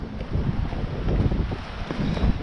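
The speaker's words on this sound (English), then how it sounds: "Oh, that wind is harsh." Strong, harsh wind buffets the microphone on a dismantled mineral railway walk between Cowthick Quarry and Corby, a steady low roar with gusty swells throughout and no talking.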